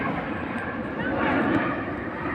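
An airliner passes low overhead near London Heathrow, close to Terminal 5. A loud, steady broadband roar swells slightly midway through two and a half seconds, with a voice speaking over it.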